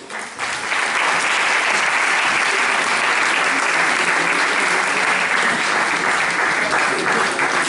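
A hall audience at a pop-rock contest award ceremony breaks into sustained, dense clapping that holds steady and loud for several seconds without pause.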